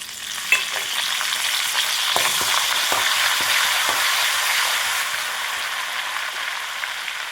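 Mustard seeds, cumin, garlic, asafoetida and curry leaves fry in hot oil, giving a loud, continuous sizzle with scattered popping crackles and a few stirring clicks close up, with no voices.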